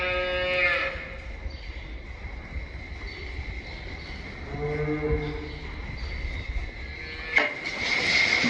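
A dairy cow, a fresh calver during calving season, lows in a farm barn with a few drawn-out moos over steady background noise and a brief clatter near the end.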